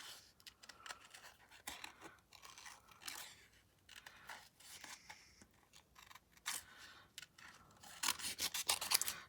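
Scissors snip through a paper stamp image cut out by hand, making quiet, irregular crisp cuts and rustles up close, with no talking.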